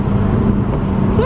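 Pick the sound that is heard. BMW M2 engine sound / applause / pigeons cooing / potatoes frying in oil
BMW M2 engine sound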